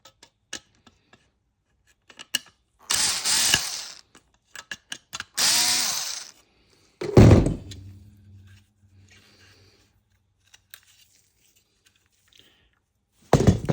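Two small T8 screws being unscrewed from a Dyson V10 cordless vacuum handle, giving short ratcheting driver bursts and clicks with quiet pauses between them, close and alone.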